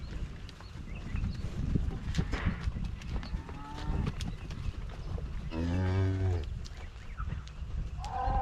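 Mother cow calling for her calf on a farm, a single loud, drawn-out moo standing out over steady outdoor rumble and faint background sounds.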